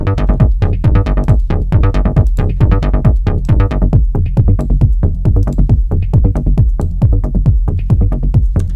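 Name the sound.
synthesizer sequence with kick drum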